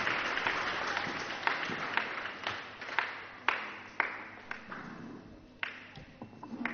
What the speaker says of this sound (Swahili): Tafadhali msaidieni haya makofi hayatoshi haya